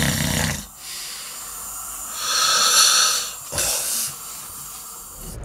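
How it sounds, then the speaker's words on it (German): A person snores while wearing a nasal dilator clip, giving slow, hissing, breathy snores close up in a quiet room, two long rasping breaths with a pause between. "Er schnarcht trotz zusätzlicher Nasenbelüftung."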